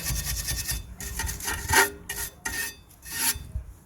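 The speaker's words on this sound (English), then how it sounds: "Just gonna remove the loose particles of the brake disc itself." A tool rasps rust off the rear brake disc of a Toyota Verso in bursts of harsh close scraping strokes, pausing briefly between them, with no talk.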